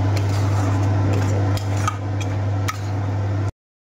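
A frying pan is handled while chicken cooks, giving a few sharp metallic clanks over a steady low hum before the sound abruptly stops.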